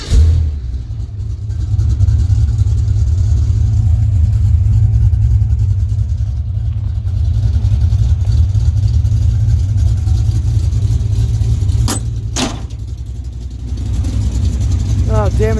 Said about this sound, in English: It sounds like there's an exhaust leak up front.